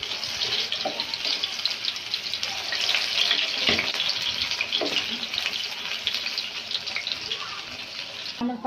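Raw potato pakora snacks frying in hot oil, a steady bubbling hiss with faint crackles and a few soft clicks, continuous and fairly quiet with no talking.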